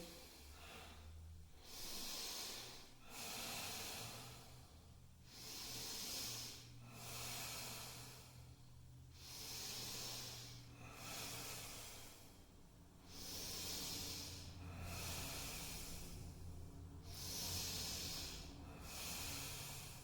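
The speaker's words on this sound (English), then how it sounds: "Deep, even breathing." Deep, even breathing during a short yoga practice, slow steady cycles of audible airy inhales and exhales repeating about every two and a half seconds, close and quiet with no talking.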